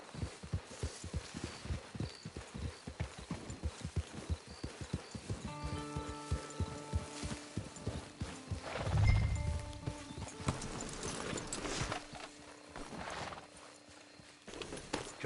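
Horse hooves clip-clop in a steady, close, rapid rhythm in the video game Red Dead Redemption, with a brief neigh partway through as the pace carries on.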